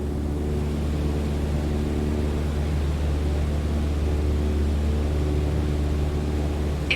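Steady airplane engine drone in Microsoft Flight Simulator 2020 as the aircraft rolls into a bank, a continuous, loud, unbroken roar with no voices.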